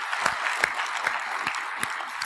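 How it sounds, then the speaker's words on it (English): Conference audience at an information security summit breaks into steady applause, dense clapping with a few sharper claps standing out, filling the room without any talk over it. "give a round of applause for Mike and Connie and everybody that make this possible"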